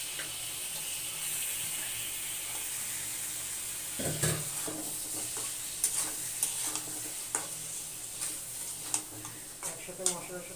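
Chicken goes into a pan of frying onions for biryani: a quiet sizzle swells with a sudden burst as the pieces land, then repeated stirring clacks and scrapes continue close by.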